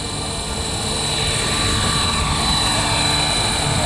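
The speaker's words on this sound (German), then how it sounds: "Ein Rund-Heli, der eigentlich konstruiert ist, um maximale Geschwindigkeiten zu erreichen" A steady, loud whirring rotor drone holds at a constant pitch throughout, like a model helicopter flying fast nearby, with no voices.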